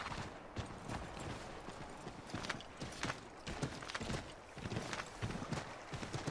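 A horse's hooves clip-clop steadily in the game Assassin's Creed III, a continuous quick rhythm of close, clear hoofbeats over a rustling outdoor background.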